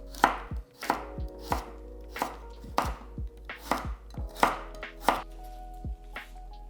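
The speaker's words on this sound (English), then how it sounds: "Slice a carrot" A knife slices through a carrot on a cutting board, about ten crisp, evenly paced chops landing close and clear with no voices.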